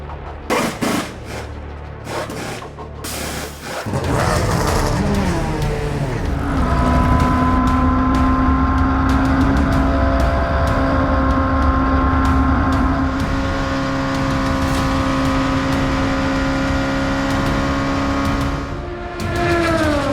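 ELMS endurance race cars at Eau Rouge–Raidillon, Spa-Francorchamps, come through with harsh crackling downshifts, then a loud sustained high-revving engine note climbing the hill. Passes follow close together near the trackside.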